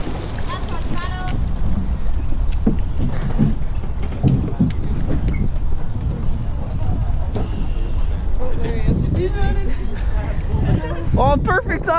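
Rowing crew pulling paddle strokes during a boat practice, rhythmic splashes and thumps under wind buffeting on the microphone, with people calling out commands throughout.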